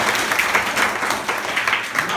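Children in a village school classroom clap together in a steady, dense patter lasting the whole moment, fairly loud and close.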